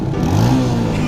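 A modified Yamaha Vixion motorcycle engine revs steadily and loudly, a dense low rumble that fills the whole short moment without a break.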